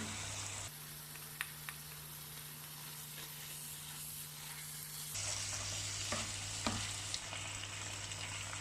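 Pork stir-fried in a pan with Korean gochujang sauce makes a continuous close sizzle. A few sharp scrapes and stirring knocks come through it, and a steady low hum sits underneath. Nobody speaks.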